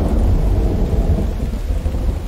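Heavy rain pours in the survival game The Infected at night, with a deep rolling thunder rumble running under the steady downpour.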